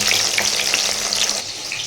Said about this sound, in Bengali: আর এদিকে হচ্ছে তোমার পটল ভাজা চলছে